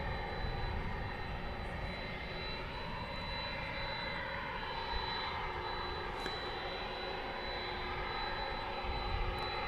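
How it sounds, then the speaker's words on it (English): A UPS Boeing 767 jet being pushed back at night at DFW Airport, heard as a steady, dense roar of jet engines with a constant whine and no break, loud and sustained throughout. ".767 being pushed back here."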